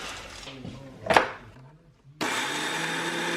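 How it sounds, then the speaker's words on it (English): Kitchen blender grinding oats into flour: after a few quiet knocks and a short handling noise, the motor kicks in abruptly and runs as a loud, steady whir to the end. "I'm going to start by blending some oat flour."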